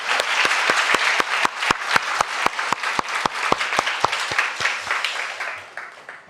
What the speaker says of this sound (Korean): 다시 한번 우리 하나님께 큰 박수 올려드리도록 하겠습니다